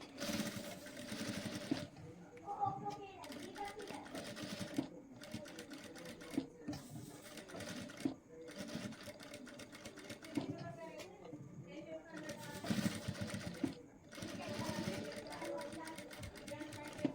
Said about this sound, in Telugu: ఆ థ్రెడ్ పైపింగ్ పక్కనలా స్టిచ్ వేసుకోండి